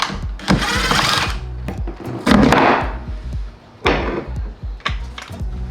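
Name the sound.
removing car subwoofer screws with a T20 Torx bit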